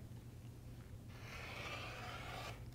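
A rotary cutter slices along a quilt block for trimming, a single steady rasping scrape of about one and a half seconds, close and fairly quiet over a low background hum.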